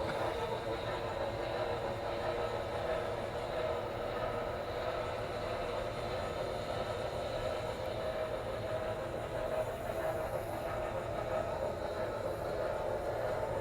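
A Norfolk and Western Y6B articulated steam locomotive runs at half speed with a steady, continuous rumble and rolling noise. It holds an even, moderately loud level throughout, and no one speaks over it.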